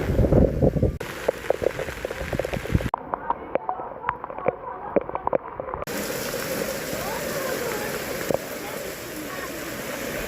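Heavy rain at Sajjangad fort in monsoon weather, a dense continuous broadband hiss close by, with sharp drops and splashes and rough gusty patches throughout, no talking.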